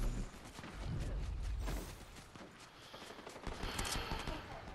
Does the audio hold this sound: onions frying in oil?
no